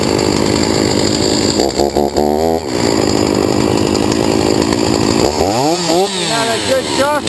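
A STIHL MS460 or Husqvarna Rancher 55 chainsaw starts up and runs loud and close, revving up and down in a few surges before settling into a steady high-pitched whine.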